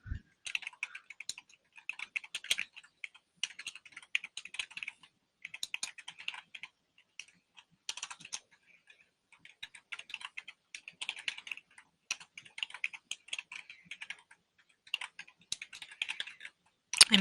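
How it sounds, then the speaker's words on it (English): Months are typed into spreadsheet cells on a computer keyboard: quiet, close key clicks come in quick bursts separated by short pauses, with a faint voice now and then. "you're going to type in all the months"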